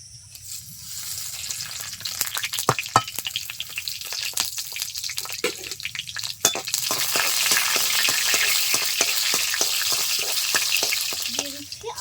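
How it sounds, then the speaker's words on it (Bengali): Cumin seeds, bay leaves and dried chillies going into hot oil for a fish curry, starting quietly and building into a dense crackling sizzle, with rapid spattering pops that carry on to the end. "তেলটা ভালো করে গরম করে নিয়েছি এখন দিয়ে দিচ্ছি জিরে তেজপাতা আর শুকনো লঙ্কা"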